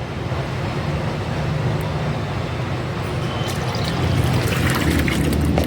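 Mustard cake fertilizer tips into a bucket holding five litres of water, making a continuous sloshing, trickling pour that grows louder and splashier toward the end.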